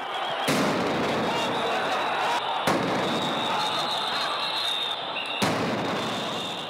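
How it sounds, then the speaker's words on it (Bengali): Police sound grenades go off at a street protest near the national mosque in Dhaka: three sharp, loud blasts roughly two and a half seconds apart, each ringing over constant street and crowd noise. "এক পর্যায়ে সাউন্ড গ্রেনেড ও কাঁদানে গ্যাসও নিক্ষেপ করে পুলিশ"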